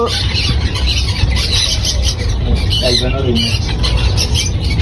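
Parrots, rosellas among them, squeal and squawk continuously in a crowded bird shop, a dense, loud chorus of overlapping shrill calls.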